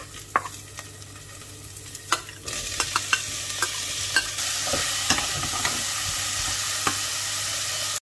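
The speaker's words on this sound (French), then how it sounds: "Les oignons commencent à dorer" Onions sizzle and fry in oil in a pan during a cheap home-cooked meal with chicken already cooked. A steady crackling hiss runs throughout, punctuated by sharper clicks and pops, growing louder and denser midway with no talk.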